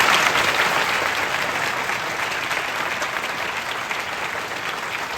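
A classroom audience gives sustained, even applause for three successful UPSC exam candidates, the clapping dense and close throughout.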